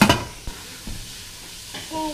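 Meat browning in a pan for Kenyan sukuma wiki gives a soft sizzle, with a few short stirring scrapes and clatters against the pan, fairly quiet and close.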